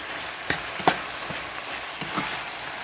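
Chicken and vegetables being stirred in a pan, with a steady low sizzle and a few soft scraping clicks of the spoon against the pan, close and unaccompanied by talk.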